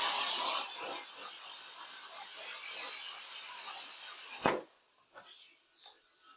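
A hand tool cuts and trims a piece for a planer's custom dust collection, giving a steady soft rasping cut that fades, then a sharp snap and a few faint scrapes, close by.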